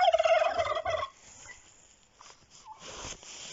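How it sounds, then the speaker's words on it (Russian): A turkey lets out a loud, near gobbling rattle for about a second in a farmyard, then quieter shuffling and faint bird calls follow. "Индюшки гуляют."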